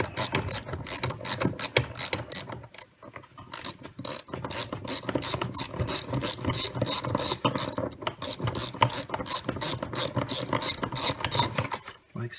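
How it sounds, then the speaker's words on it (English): A 17 mm wrench ratchets out the lower seat belt bolt inside a Porsche 911, a rapid clicking pawl in repeated bursts with brief pauses, close and fairly loud, with some rubbing of parts. "there's 1 bolt on the bottom of the safety belt with the same 17 millimeter wrench"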